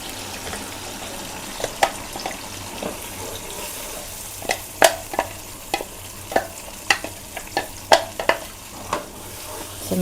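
Butter chicken with tomato and onion paste being stirred in a sizzling pan, a steady hiss broken by a run of sharp spoon scrapes and clacks that grow more frequent toward the end, no one speaking.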